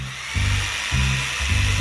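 A saw working through wooden boards for a homemade under-bed stand, heard as three loud, close rasping strokes in quick succession over a short stretch.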